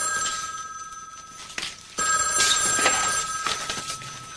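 A telephone rings with a bright, bell-like electronic trill, sounding in repeated bursts close by with no talking over it.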